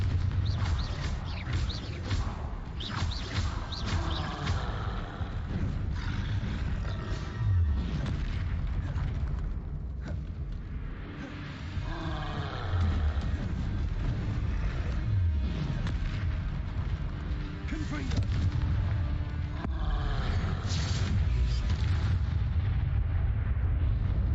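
Confringo explosive spell blasts in the Hogwarts Legacy video game, heard as a dense, continuous roar of booming explosions and rumble that stays loud throughout, with no talking.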